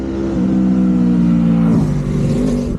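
A Kawasaki Vaquero bagger cruiser motorcycle engine revs in a short, loud burst, its low throbbing tone swelling and dipping over a few seconds with no talking.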